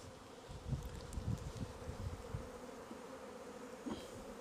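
Honeybees buzz steadily around an open hive while two colonies are being merged frame by frame, a dense low drone at close range with no voices over it.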